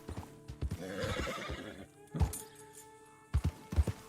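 A horse in Red Dead Redemption 2 whinnies loudly near the start, then hooves clip-clop in uneven bursts as it rides past, a few heavy steps closing the stretch.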